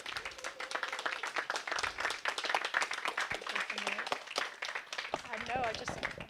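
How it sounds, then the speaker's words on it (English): An audience claps after a panel discussion on African art, with scattered, uneven applause mixed with people talking and moving nearby. "Let's give them a round of applause."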